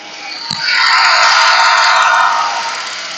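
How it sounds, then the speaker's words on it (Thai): A loud, sustained howling whine from the faulty hybrid air-conditioning compressor of a Mercedes-Benz S350e, swelling up after a short click and holding steady, with no voices. "อาการก็จะเป็นเสียงหอนหอนนะฮะ"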